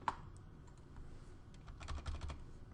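Computer keyboard keys are typed at a desk while entering constraints in an Excel spreadsheet: a steady run of light, close taps with occasional louder strokes and no talk.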